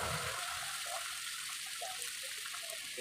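Chicken skin bubbling and frying in hot oil, a steady hissing sizzle with occasional soft pops, close and continuous with no talk.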